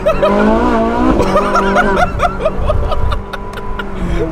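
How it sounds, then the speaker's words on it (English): A Ferrari sports car engine revs hard, rising and falling in rapid high-pitched pulls with a loud, close, snarling tone and brief dips between revs. "That engine sound, it's pure Ferrari."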